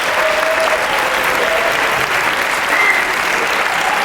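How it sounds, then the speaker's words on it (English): A talk show studio audience applauds loudly and steadily throughout, a dense continuous wash of clapping with faint crowd noise underneath. "Let's give a big round of applause"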